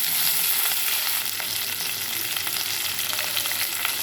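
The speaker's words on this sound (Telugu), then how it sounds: "తాలింపులు చెట్పటం అన్నప్పుడు కరివేపాకు, పచ్చిమిర్చి, ఉల్లిపాయలు కూడా వేసుకున్నాం" Curry leaves, green chillies and onions frying in hot oil as a tempering for a broad bean and tomato curry, giving a steady, close, loud sizzle throughout with faint stirring.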